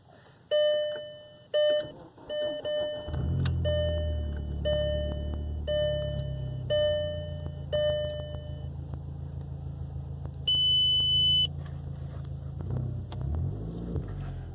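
An old VW car engine idles steadily after starting, a loud close rumble under repeating electronic warning chimes and beeps.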